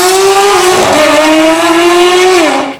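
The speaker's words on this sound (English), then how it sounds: "That GT3 exhaust sounds so crazy." A Porsche 992 GT3 fitted with an F1-style exhaust that shoots flames, revving loud and steady close by, the engine note climbing, dipping with a shift and rising again, then cutting off at the end.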